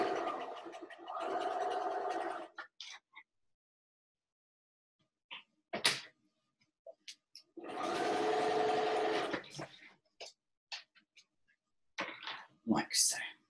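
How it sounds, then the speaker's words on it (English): A sewing machine stitches a Bear Paw quilt block through crossing seams, running in two steady whirring bursts of about two seconds each, separated by sparse handling clicks and taps and a stretch of near silence. "I'm going to sew directly through those stitches that cross over each other"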